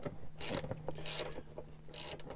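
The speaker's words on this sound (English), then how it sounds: "And that will reveal the single 7mm nut, which we will now remove." Close ratchet clicks as a single 7mm nut is loosened on a Jeep JK, heard as three short bursts of quick ratcheting separated by brief pauses, and no talking.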